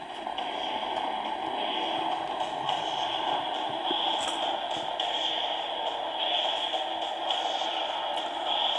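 Revolt hand-crank emergency radio switched on and playing, giving a steady, muffled, hissy broadcast sound at moderate level that runs without a break and with no nearby talk.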